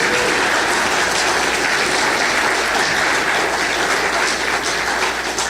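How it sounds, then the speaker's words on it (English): Church audience applauding a newly introduced couple at a newlywed game night, a dense, steady wash of clapping that stays loud and even throughout with no voices over it. "Give Scott and Tiffany a round of applause."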